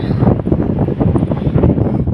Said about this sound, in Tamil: காற்று சரியான காற்றாக இருக்குது.